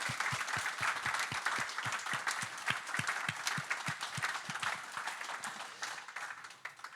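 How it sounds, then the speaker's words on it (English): Room applause following a guest's story at an evening interview event, with dense clapping carrying steadily for several seconds and a few sharper, louder individual claps standing out before it tapers slightly at the end. "Can we give him a round of applause?"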